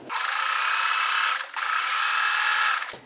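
A sewing machine stitches fabric strips together for a scrappy strip quilt, running in two steady, close bursts with a brief stop between them and no talking.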